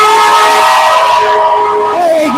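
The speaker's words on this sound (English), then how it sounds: "A nice truck didn't hit me over, and he honked his horn" A truck's horn blares loudly and steadily at a street protest, one long sustained tonal honk that dips in pitch at the end, very close and dominating.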